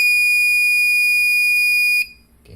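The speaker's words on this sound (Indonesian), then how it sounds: "Saya akan menyalakan buzzer di D6" An electronic buzzer wired to pin D6 of a Blynk real-time monitoring setup sounds one continuous high-pitched tone for about two seconds, then cuts off abruptly.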